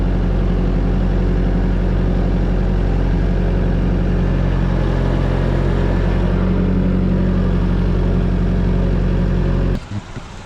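An 8-speed Jeep Gladiator's engine drones steadily and loudly at close range during an off-road flex test in mud, holding an even, constant pitch before cutting off abruptly near the end.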